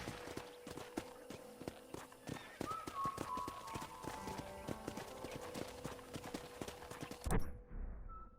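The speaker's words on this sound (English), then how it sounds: "I picked out a fine horse for you." Steady clip-clop of horse hooves from Red Dead Redemption walking at an even pace, with light rattling alongside, ending abruptly in a short thud.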